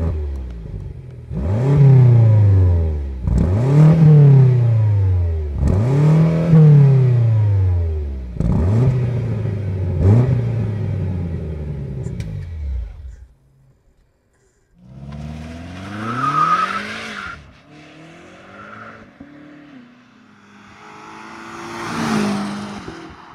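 A 2021 BMW M5 Competition LCI with 625 hp to the rear wheels revs hard, producing five loud rising-and-falling engine swells in steady rhythm, then a short pause before it pulls away with further throttle bursts and some tire noise.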